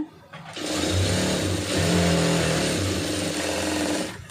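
A sewing machine stitches the lining of a puff-sleeve blouse, running in one steady, close, whirring burst after a short start and stopping cleanly at the end.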